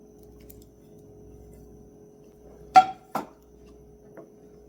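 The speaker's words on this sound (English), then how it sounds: "I'm going to add my shrimp" Shrimp for shrimp scampi drop into a pan with a couple of sharp, brief clatters and splats, followed by one faint later tap, over a quiet steady background.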